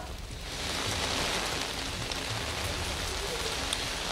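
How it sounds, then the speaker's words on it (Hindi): Heavy rain pours continuously during Cyclone Remal in Kolkata, a dense steady hiss that swells in after the first half second and stays loud, with gusty wind mixed in. "अभी तेज हवा चल रहा है यहाँ पे और बहुत धुआंधार बारिश हो रहा है पूरे कलकत्ता में"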